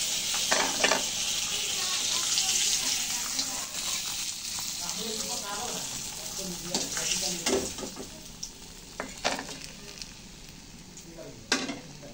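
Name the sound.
fish pieces frying in hot oil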